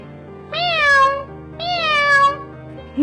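A black cat meows twice in quick succession, loud and close, each call rising then falling, with quiet background between.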